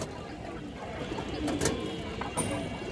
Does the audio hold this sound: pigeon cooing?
yes